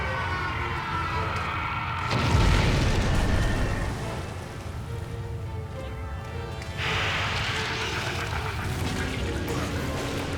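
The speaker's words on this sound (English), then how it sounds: "we will just get a few quick blasts in with it" Cannon blasts from the video game Monster Hunter 3 Ultimate boom as heavy, rumbling explosions, one strong burst followed by a later second blast, over continuous loud game noise with no talk.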